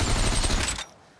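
Rapid automatic gunfire in the Population One VR shooter, a fast, loud burst of shots close up that stops abruptly and leaves a short fading tail.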